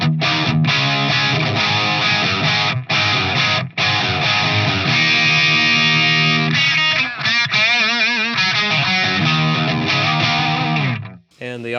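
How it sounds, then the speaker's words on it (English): A distorted electric guitar played through a Friedman IR-D amp with no added delay, reverb or boost, continuous chords and riffs ringing loud and close, ending abruptly. "The DelVerb is off, the boost is off, this is just bone dry"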